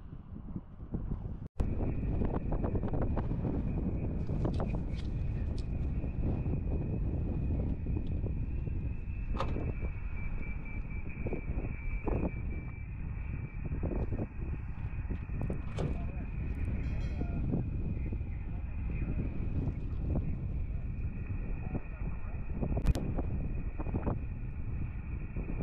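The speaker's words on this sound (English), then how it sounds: "that's windy out here" Steady wind buffets the microphone outdoors at the Titan Missile Museum, a constant rumbling roar with occasional sharper gusts and a faint tone, and a voice speaks at times.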